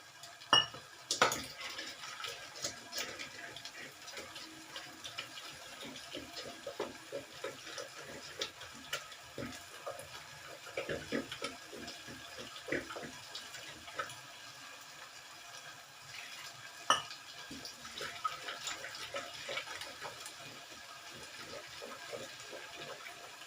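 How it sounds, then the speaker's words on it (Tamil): Water poured into cooked dal in a pressure cooker in a home kitchen, a faint trickle mixed with light clinks of utensils and pot. "கொஞ்சம் தண்ணி ஊற்றிட்டு"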